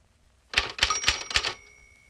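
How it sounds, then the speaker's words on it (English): Four crisp, evenly spaced mechanical strikes of a manual typewriter, close and fairly loud, followed by a faint lingering ring and quiet. "On the signal, type line 12 at your own rate."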